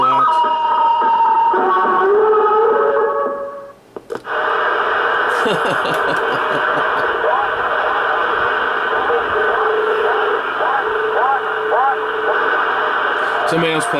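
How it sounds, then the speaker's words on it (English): Over a Cobra CB radio, a noise toy sends out warbling, swooping electronic squeals and tones above a steady hiss, cutting out briefly once before the wavering signal returns. "Somebody else playing with their noise toy."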